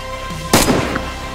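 A single sharp gunshot in the DayZ video game, a loud crack followed by a short rumbling tail, heard alone over faint background hum.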